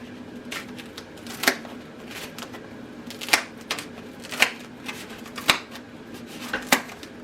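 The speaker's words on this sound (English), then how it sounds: "I'm just going to take a regular pair of scissors, and then I'm going to just cut one end." Repeated crisp snipping sounds of scissors cutting a foam pool noodle at an irregular pace, close by, with no talking.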